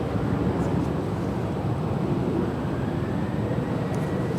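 Embraer E175 jet departing LAX, a steady broad roar of engine and rushing air that holds at an even loudness, with no breaks, throughout.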